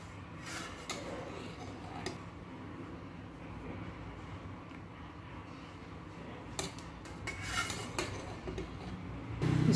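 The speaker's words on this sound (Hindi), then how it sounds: "इसको अच्छे से मिक्स कर लेंगे।" Gram flour (besan) being worked with ghee in a bowl for Rajasthani besan chakki: steady scraping and clinking of a utensil against the bowl, close and continuous, with a few sharper knocks.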